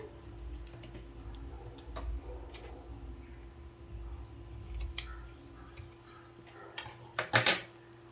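A small snip with scissors into the centre of a fabric latkan, a tassel hanging for a lehenga or blouse, comes as a few crisp, close clicks near the end after quiet handling noises, with no talking.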